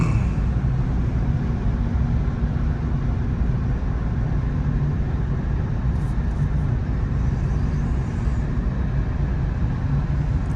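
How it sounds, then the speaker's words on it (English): An Audi A5 Cabriolet driving on the road produces a continuous low rumble of engine and tyre noise, steady and loud from inside the car throughout, with no talk. "What a wonderful drive and a wonderful riding car."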